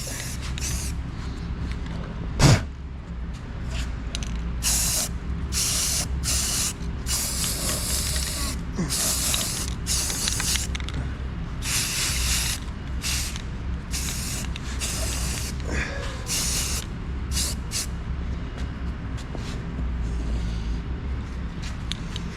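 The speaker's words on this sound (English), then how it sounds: "So just get this thing all spray painted. Just get a primer on it." Repeated hissing bursts of a spray can applying primer to a metal vise, short and long, up close, with a rattling mechanical sound in the background.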